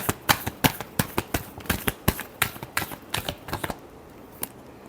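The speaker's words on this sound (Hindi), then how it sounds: "लास्ट शफल, एक शफल और लगेगी।" Tarot cards are shuffled close up in a quick series of crisp riffling snaps, about a dozen sharp bursts in irregular rhythm over four seconds, ending in quiet with no talk.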